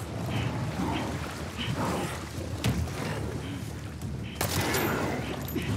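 Game gunfire from The Last of Us Part 2, a dense run of repeated shots and thuds in a busy combat mix, with a couple of sharper louder bursts near the end.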